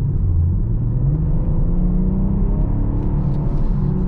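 Hard acceleration in a 2021-2023 BMW M440i convertible heard from inside the cabin: a loud, steady engine drone with rising pitch and a heavy low rumble that fills the clip, with no talking.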